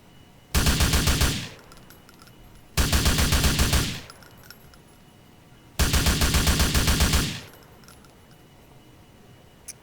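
Rifle fire from a police training range in GTA IV, three loud sustained bursts of rapid automatic shots, each lasting about a second with short pauses between, close and without talking.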